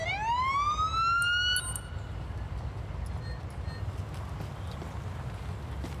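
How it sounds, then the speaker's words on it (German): A video game ambulance siren wails upward once, loud and close, then cuts off, leaving a steady low rumble of traffic or engine noise. "Wo ist mein Krankenwagen? Ich habe ihn noch gehört."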